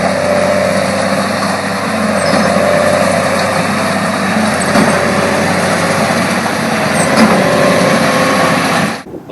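A steady New Holland T7 300 tractor engine drones at close range driving a square baler, with a faint rhythmic pulse of the baler ram underneath, continuous for several seconds before cutting off abruptly.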